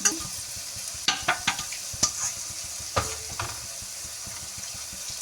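Boondi drops fry in hot oil for Tirupati laddu, a soft steady sizzle broken by several sharp clinks and scrapes of a spoon against the pan.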